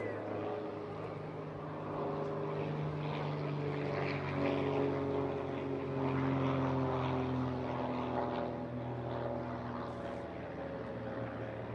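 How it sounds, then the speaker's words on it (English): Firefly propeller aircraft passing overhead at the Eastbourne International Airshow, a steady droning engine and propeller hum that swells and fades slightly over the whole stretch, loud and unbroken. "He's going to be tipping the aircraft down and giving you a wing waggly wave, and giving him a great airborne send-off."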